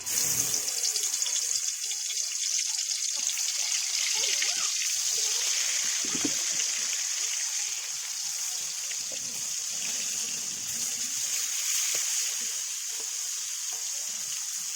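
Marinated tomatoes hit hot oil in a wok and give a steady, bright hiss that carries on throughout, with faint low clinks and bumps beneath it.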